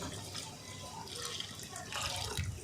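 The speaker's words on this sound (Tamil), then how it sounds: "இதோட தேவையான அளவு தண்ணி சேர்த்துக்கலாம்." Water is poured into a pot of Tamil-style mutton intestine curry (kudal kulambu), a soft close splashing and trickling that lasts a couple of seconds at low volume.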